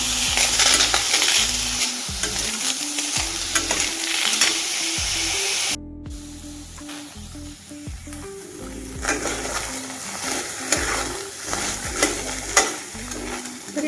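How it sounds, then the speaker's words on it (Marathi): Shelled pavta beans dry-roasting in a pan, a constant loud rustling hiss punctuated by scraping stirs and light rattles, a brief cut near the middle, then the roasting continues with a low background hum. "सगळ्यात आधी आपण पावटे भाजून घेऊयात"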